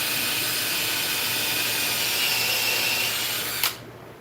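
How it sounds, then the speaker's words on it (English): A power drill drives screws into a thick butcher block benchtop, a loud steady whine held for several seconds that cuts off abruptly near the end. "Now I'm going to put a few screws in here to hold it."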